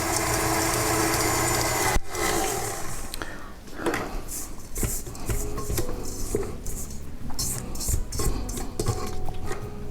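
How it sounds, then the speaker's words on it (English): A spatula scrapes around a KitchenAid stand mixer bowl, giving a run of clattering, scraping knocks against the bowl that start abruptly and continue irregularly close by. "you always need to stop it part way through and scrape the bowl"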